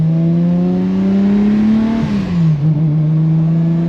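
A 1000 hp BMW 1 Series fitted with an M50B25 engine revs loudly and close up, a steady deep engine drone rising slightly, then dipping and settling as the revs drop, heard alone.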